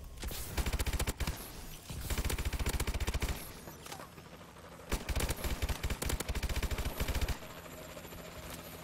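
Gunfire in the video game Killing Floor 2 rattles out in rapid automatic bursts, loud and dense, with short pauses between volleys and no talking.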